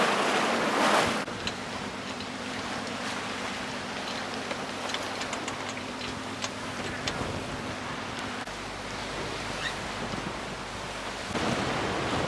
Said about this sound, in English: We've got some quite rolly waves.